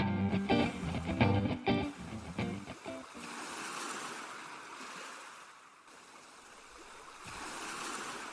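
Ocean waves wash in a soft, steady surf at low volume. Their rush swells and recedes gently after a short burst of music at the start.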